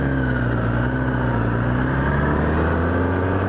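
A Kawasaki ZX10 sport motorcycle being ridden hard in its full-power F mode, a loud steady engine drone with strong low harmonics holding close and constant throughout, no voices over it.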